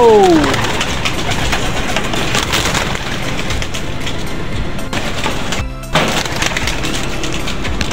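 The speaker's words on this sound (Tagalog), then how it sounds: "palipad tayo guys ng ating mga young bird" A flock of young racing pigeons is released to fly. A loud clatter of wingbeats bursts out at the start, then a steady flutter and soft coos fill the air, with a short thump near the end.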